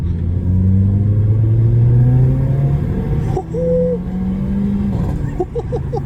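A Mercedes CLA 45 with a loud exhaust rumbles and revs from inside the cabin, its deep throaty exhaust note rising and falling as it accelerates.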